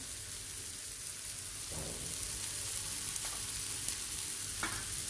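Paneer bhurji with tomato, turmeric and salt stir-fried in a pan, giving a steady soft sizzle with scraping stirs and a few brief clatters of the spoon, no voices.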